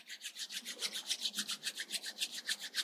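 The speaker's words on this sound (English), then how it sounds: "Start rubbing your palms." Palms rubbing briskly together in a yoga pranayama class, a steady rhythmic swishing of about six strokes per second, close and clear with no talking.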